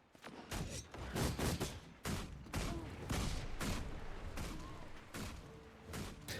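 Repeated pistol shots in Guild Wars 2, a rapid irregular series of punchy, booming bursts over a steady background of game ambience.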